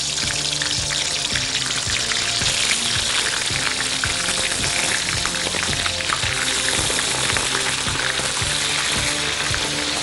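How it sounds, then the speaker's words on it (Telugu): Eggplant pieces fry in hot oil with a loud, dense, continuous sizzle and crackle that holds steady without pause. "మరి ఈ వంకాయల్ని వేడి నూనెలో వేసుకుంటూ ఫ్రై చేసేసుకుందాం."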